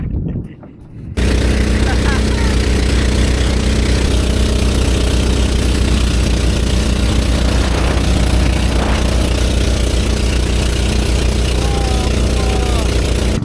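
A motorized wooden bangka boat engine runs near a Philippine island, starting after a brief quiet moment and then holding a loud, steady, low droning rumble with faint voices mixed in.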